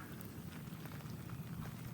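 Rain falling onto pooled floodwater on a rural property during a storm, a steady dense patter of drops and soft splashing, continuous and moderately loud with no voices.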